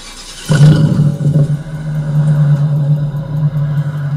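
Mercedes-Benz S500 W220 V8 with a straight pipe exhaust revs sharply from idle, then settles into a loud, steady, deep rumbling idle with rough pulsing.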